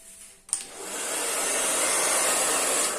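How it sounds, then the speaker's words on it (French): A hair dryer blowing on a painting to dry black and metallic gold paint, switching on with a click and then roaring steadily at close range for several seconds, with no voices. "Je vais sécher à nouveau au sèche-cheveux."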